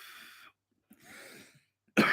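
A person coughs in a few short bursts: a breathy, throat-clearing rasp, a pause, a second rougher cough, then a sharper, louder hack at the end, all close and alone.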